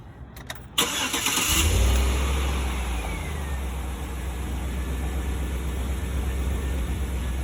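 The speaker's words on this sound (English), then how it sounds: "I'm going to go ahead and start the vehicle" A school transportation vehicle's engine cranks briefly and starts, then settles into a steady, loud low idle that continues for several seconds with no talking.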